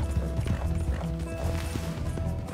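Horse hooves in the video game Red Dead Redemption 2: a loud, close, steady clip-clop of a horse moving at an even gait, with a faint whinny and game ambience behind it.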